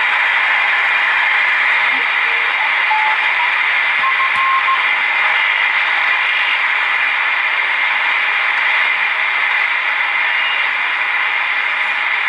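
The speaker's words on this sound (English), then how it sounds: "Now, for interest sake, that noise is all atmospheric." Steady atmospheric hiss and crackle from a homebrew 80/40m SSB/CW superhet receiver tuned to the band, a dense, even wash of noise that holds at a constant loud level throughout with no voices.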